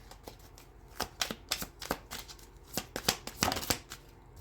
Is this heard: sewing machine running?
no